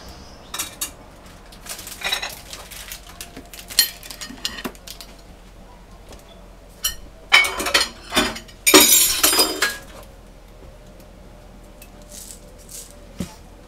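Potato and tuna mixture stirred in a bowl for potato patties, heard as intermittent clinks and scrapes of utensils against the bowl, building into a denser burst of clatter before settling.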